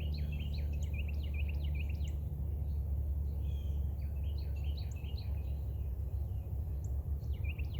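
Small birds chirp and twitter steadily outdoors on a morning, a bright scattered chatter of short calls over a constant low rumble of background noise.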